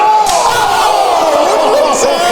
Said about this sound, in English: Slap from the heart.